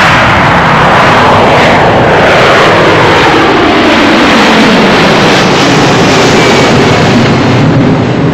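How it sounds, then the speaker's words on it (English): Airbus A300 wide-body airliner engines roar loudly and close, a continuous heavy jet rumble with a sweeping pitch shift as the aircraft passes. "The A300 Airbus, the latest recruit in the holiday battle of the skies."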